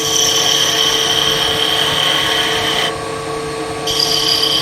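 Wood lathe spinning a workpiece while a smaller skew chisel with a delicate handle shaves the wood, giving a steady close whine over a hissing scrape that briefly softens before resuming.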